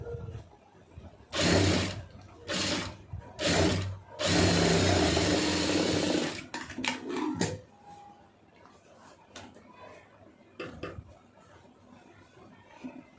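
A sewing machine stitches a puff sleeve onto a blouse in several close, loud bursts of rapid whirring, with short pauses between runs and quieter handling noises afterward.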